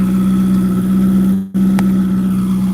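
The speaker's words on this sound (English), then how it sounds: "rate the sound on a scale of 1 to 10 when I rev it" A Ferrari 488 GTB engine holds a loud, steady, close-up drone with a strong low hum, cutting out briefly for a moment midway before resuming at the same pitch.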